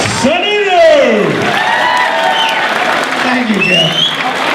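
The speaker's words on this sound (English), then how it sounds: "Please give a big round of applause for John Sununu." A political crowd applauds and whoops as John Sununu is introduced, the clapping heard under loud voices and cheering.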